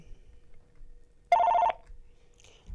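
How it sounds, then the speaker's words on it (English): A telephone rings once: a short, loud electronic trill that rises sharply out of a quiet room and breaks off after about half a second. "We are here with the phone ringing"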